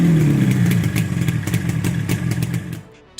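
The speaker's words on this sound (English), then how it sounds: "Yamaha RD350, India's first speed drug." A Yamaha RD350 two-cylinder two-stroke motorcycle engine runs loud and close, with a buzzing, crackly exhaust note that holds steady and then drops away at the end.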